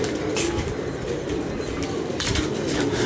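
A pigeon that has just flown in and perched coos repeatedly at close range on a windy day, its soft calls steady against a constant gusty rush of air.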